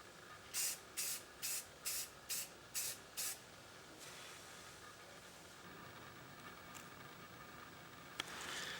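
Spray gun laying clear coat on a Toyota 86 in a series of seven short, even hissing bursts close to the mic, followed by quiet room tone with a faint click near the end.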